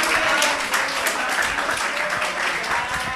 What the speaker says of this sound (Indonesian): Kasih tepuk tangan dulu biar rame.